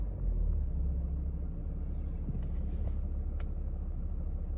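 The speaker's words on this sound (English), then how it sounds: "It's now telling me to start the car and run it at idle speed." A BMW E90 335d diesel idles after an oil, filter and air-filter service, a steady low rumble heard close by with a few faint clicks above it.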